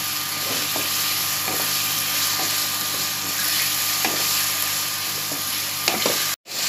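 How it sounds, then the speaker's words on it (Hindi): Chicken sizzles and fries in a pan with a steady crackling hiss, punctuated by occasional soft clicks and scrapes of stirring, continuous and close with no speech. "ये चिकन फ्राई हो गया"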